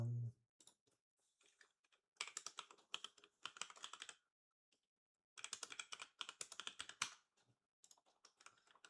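Bursts of keystrokes on a computer keyboard as card details are entered for an online upgrade, quick irregular clicking in several runs separated by short pauses, close and clear with no talking.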